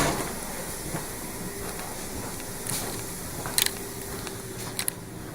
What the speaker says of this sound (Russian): я хотел сесть на обычную электричку, а в результате сел на экспресс